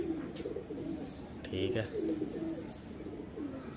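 Pakistani teddy pigeons coo softly in low, throaty bursts in the background while someone speaks nearby.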